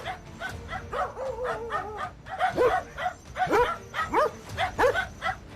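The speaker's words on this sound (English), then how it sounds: "Nearby dogs could be seen barking anxiously, clearly frightened by its presence" Several dogs barking and yipping anxiously in irregular bursts, close by and fairly loud, with frightened whimpering edges, alone without talk.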